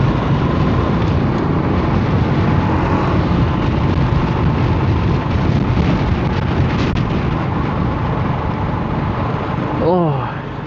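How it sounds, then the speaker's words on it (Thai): Strong tropical-storm wind roars steadily and loudly throughout, a dense broadband rush that barely eases, with a brief voice rising at the very end. "ลมแรง"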